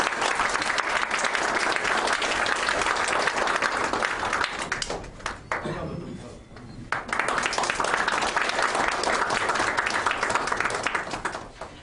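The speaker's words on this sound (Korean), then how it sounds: "축하 박수 부탁드립니다." Congratulatory applause from the audience at a small business market agency labor union's second anniversary ceremony, sustained loud clapping that briefly dips midway, then swells back to full strength until the end.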